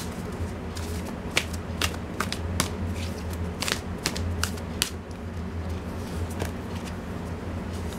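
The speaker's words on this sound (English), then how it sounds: "I'm gonna shuffle that one more time." A deck of tarot cards being shuffled by hand, a steady run of quick riffling clicks and soft slaps, close and moderately loud, with no talking.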